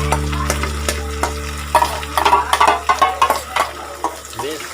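A spoon stirs spinach paste into paneer in a pan for palak paneer, giving wet squelching scrapes and soft sizzling under a steady low hum, with rhythmic stirring strokes growing busier toward the end.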